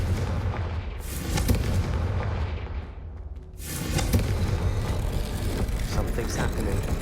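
A Confringo fire-blast spell in Hogwarts Legacy erupts as a heavy booming explosion with a loud crackling burst, surrounded by dense rumbling game combat noise and a short dip in the middle before the blasts return.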